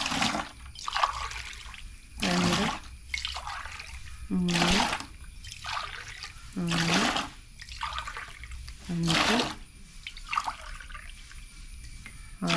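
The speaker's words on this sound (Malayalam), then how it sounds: "അതിൻ്റെ ഒരു പത്ത് ഗ്ലാസ് വെള്ളം ഒഴിച്ചു കൊടുക്കണം" Glass after glass of water is poured out for a rose plant, five distinct pours in a regular rhythm, each a loud splashing gush, while a person counts aloud between them.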